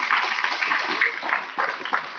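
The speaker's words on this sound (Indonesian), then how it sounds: "Tepuk tangan saya." An audience at a public university lecture claps in a hall, a fairly close burst of applause that swells and thins in uneven waves, with a faint chuckle in it.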